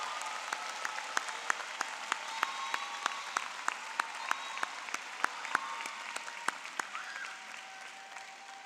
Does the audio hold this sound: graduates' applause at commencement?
yes